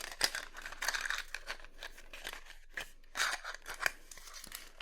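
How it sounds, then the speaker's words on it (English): Packaging for a small plastic lash lift tool being opened, with close crinkling, snipping and tearing sounds in short irregular bursts and quiet pauses between them. "So let's unbox that."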